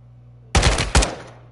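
Gunfire from Modern Warfare II: two loud, close bursts of rapid automatic fire in quick succession, each ending in a short decaying tail over a quiet low hum.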